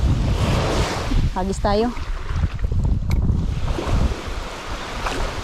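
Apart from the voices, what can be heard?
big ocean waves at the beach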